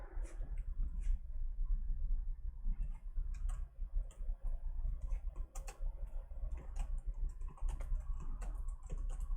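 Computer keyboard keys are tapped in quick irregular bursts, with arrow presses and a paste shortcut, close and fairly quiet over a low room hum, with no voices.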